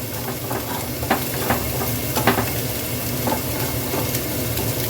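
Two eggs being scrambled and fried in a pan on a gas stove, giving a steady loud sizzle with occasional scraping stirs, close and alone without any talking.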